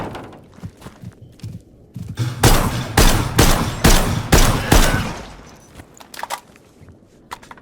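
Shotgun blasts in the post-apocalyptic shooter Stalker Gamma, a run of about six loud, evenly spaced booms in quick succession, with quieter thuds and footsteps before and after.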